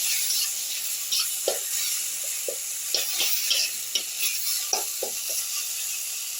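A mustard and poppy seed paste fries in a pan with tomato and spices, giving a continuous hiss of sizzling broken by repeated soft scrapes and taps of a stirring spoon, close up and without talk.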